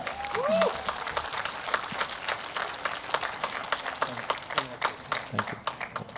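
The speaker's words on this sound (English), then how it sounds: "Everybody, huge round of applause" Scattered applause from a quiz event audience, claps rising and falling, moderately loud, while a voice briefly speaks over it at the start.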